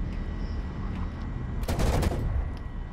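Aircraft guns firing in the War Thunder combat flight game, a single short burst of rapid fire cutting through steady engine drone, loud and close.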